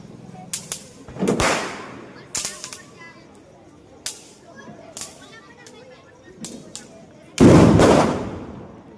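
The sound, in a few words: firecrackers bursting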